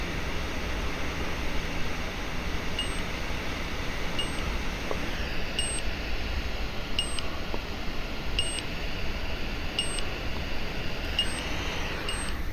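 A high electronic beep from an IoT alarm buzzer at alarm level 1 sounds at regular intervals, about every second and a half, over a constant hissing background noise.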